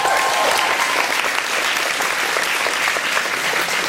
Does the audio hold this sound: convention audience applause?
yes